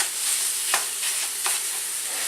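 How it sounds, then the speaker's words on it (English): Pork sausage sizzles steadily in a very hot pan, with a constant bright hiss and two sharp scraping stirs cutting through the fry, close up with no voices. "pans like this get so hot so quick, so be careful you don't burn your pork sausage"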